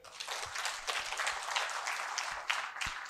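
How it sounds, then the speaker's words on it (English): Audience applause at a talk, a quiet, continuous patter of many hands clapping at a distance, with a few sharper individual claps standing out. "Please clap."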